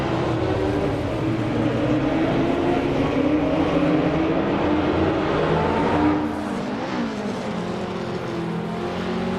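Lotus 2.5 racing car engine in a racing video game, a loud continuous engine drone holding near-steady pitch, with a shift and pitch dip around the two-thirds mark, no talk.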